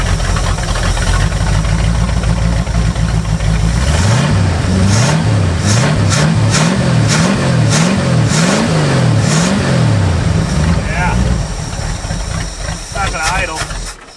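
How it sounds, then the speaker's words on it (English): A barn-find Lincoln Continental, left sitting for 35 years, runs loud and close with a hissy idle, then takes a rapid series of rhythmic throttle blips that rise and fall before settling, with voices speaking over it. "we have ourselves a car that runs and even starts off a key"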